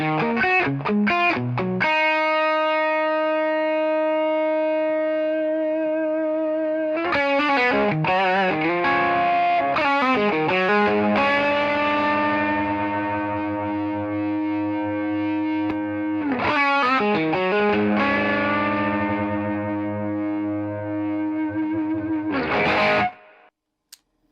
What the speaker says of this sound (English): That's the best channel of Tubescreamer I've ever heard.